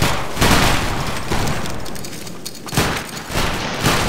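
Massed musket volleys from line infantry in Battlegrounds 3 during a multi-clan linebattle event, several loud ragged bursts of gunfire in succession over a steady noisy background.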